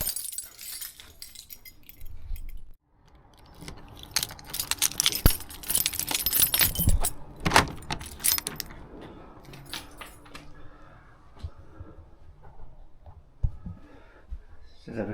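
Keys jangling and clinking in a garden near a hot tub, a bright metallic rattle that comes in irregular bursts and peaks around the middle, with other handling noise and a voice now and then.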